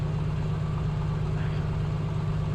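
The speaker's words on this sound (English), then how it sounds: "listen to the engine here right now." Steady low rumble of a piston engine from an A2A Comanche in Microsoft Flight Simulator 2024, idling on the ground at Monument Valley, continuous and even without talk.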